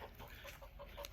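Chickens cluck steadily inside a 16 by 8 foot chicken coop on an off-grid country homestead, several birds overlapping in a close, busy chorus over constant background noise, with no one speaking.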